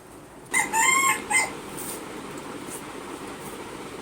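A single rooster crows once, fairly clear but not very close, over a steady low background hum.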